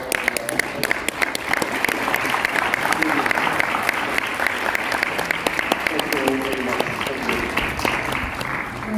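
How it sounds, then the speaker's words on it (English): A large audience at a conference on Opportunity Zones gives a long, dense round of applause, a loud continuous wash of overlapping claps lasting several seconds, with voices faintly mixed in. "let's give a big round of applause to our"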